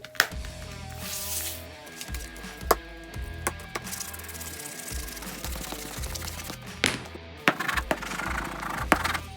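A glass slicker burnishing a leather edge treated with Tokonole, heard as repeated rubbing and scraping strokes with scattered sharp knocks and clatter against a steady background hum, no talk.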